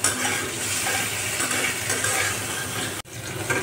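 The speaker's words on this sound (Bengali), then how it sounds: "মশলাগুলো সুন্দর মতো কষানো হচ্ছে।" Spices with a green chili sizzle and fry in a pan while being stirred, a dense, loud continuous hiss with scraping, broken by one brief gap near the end.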